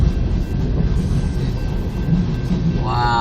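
Heavy Ferromex freight train rolling past with tank cars and gondolas, a steady loud low rumble and wheel noise throughout, with a rising whine near the end.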